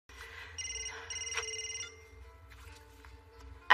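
A telephone rings in bursts of bright, warbling electronic tones over a low background hum, with a sharp click at the very end as the call is picked up.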